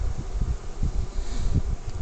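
Honey bees swarm around an opened top bar hive, giving a steady, dense buzzing drone with low pulsing swells, close by and continuous without talk.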